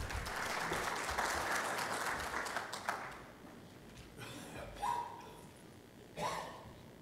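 Applause at a formal ethics conference in Hatay welcomes a speaker to the podium, a burst of dense clapping that dies out after three seconds, followed by a few scattered shuffles and handling knocks.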